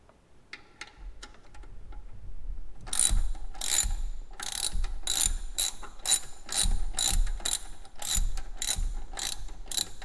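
A ratchet wrench loosens the lower alternator bracket bolts on a 1999–2004 Mustang GT, starting with a few light clicks, then settling into a close series of sharp, rapid ratcheting bursts repeated in a steady rhythm.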